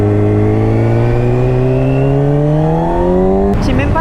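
A newly bought motorcycle's engine revs loud and close, its pitch climbing steadily in one long pull before cutting off abruptly near the end.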